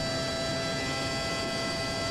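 A dense, continuous high-revving engine roar from a 1998 McLaren MP4-13 Formula One car in the Assetto Corsa racing game at Spa-Francorchamps, with a steady whine on top, loud and unbroken throughout.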